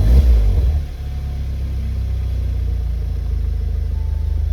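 An Audi TTS (8S, MK3) engine catches with a brief loud start-up surge, then settles into a steady, low, even idle rumble heard up close.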